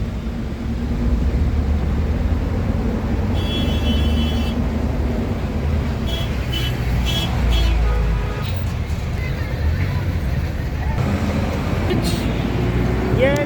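Heavy road traffic on the Gurugram to Manesar road near a flyover, a dense continuous rumble of engines with a few horn blasts cutting through, loud and close throughout.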